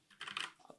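A Keychron K4 V2 wireless mechanical keyboard being typed on: a short, quiet burst of several clustered key clicks, close up and alone.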